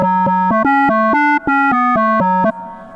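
A deep house FM bass synth patch built in Serum plays a loud, bouncy sequence of short stabbing notes with brief gaps, ending on a softer decaying tail.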